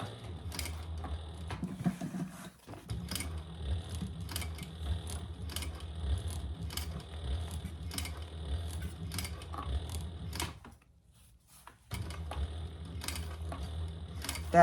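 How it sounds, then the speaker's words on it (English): A sewing machine with a zipper foot runs with a steady mechanical whir and rhythmic clicking ticks, pausing briefly before starting again. "That noise here is just my zipper foot."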